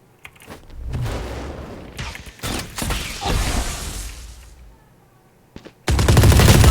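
Valorant gameplay with rapid bursts of gunfire and mechanical clatter, loud and close, with layered shots in the middle and a heavy sustained roar of fire at the end.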